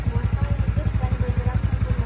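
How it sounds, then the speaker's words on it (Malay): A motorcycle engine runs at a steady idle during a pre-ride check at a riding school in Labuan, giving a close, even, rapid thumping pulse with no other sounds. "Okey, motor hidup dan bergerak sempurna tuan."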